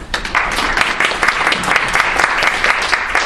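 An audience at a Korean university lecture claps for a professor, giving steady, dense applause that stays loud and even throughout, with no voices over it.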